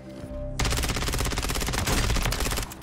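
An ISO 9mm submachine gun fitted with a 50-round drum magazine fires on the shooting range in the Warzone video game, loud rapid automatic bursts after a brief quiet lead-in, ending abruptly without any talk.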